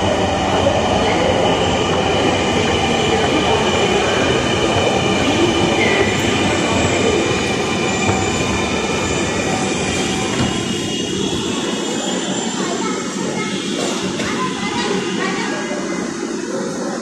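A Dhaka metro rail train rumbles loudly and steadily past a station platform, a constant roar with faint squeals, then easing slightly toward the end.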